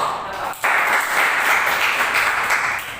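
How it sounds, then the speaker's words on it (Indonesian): Sustained applause for a student fills a fifth-grade classroom, a dense, loud wash of many hands clapping that starts abruptly and continues steadily. "Kita beri aplaus kepada adik."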